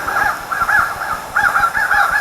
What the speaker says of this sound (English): There's birds outside.